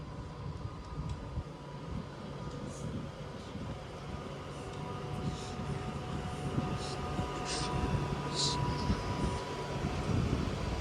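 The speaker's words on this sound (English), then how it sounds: "we do have a 150 arriving in now" A Class 150 diesel train rumbles into Manchester Piccadilly station, its low engine drone and wheel noise growing steadily louder, with faint squeals and clanks on top.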